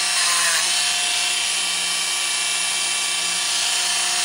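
Wooden dowel end being carved into a shallow depression with a rotary power tool, a steady high whining buzz running continuously and close throughout.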